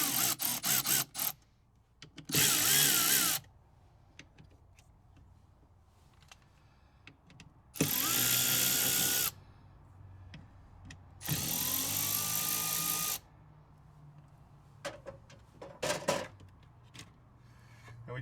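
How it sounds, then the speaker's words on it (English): Power tool loosening four bolts on a car while fitting a Rally Road oil distribution block: three loud, sustained bursts of whirring, each lasting about one to two seconds, separated by quieter clicks and handling noises. "And then we need to loosen these 4 bolts."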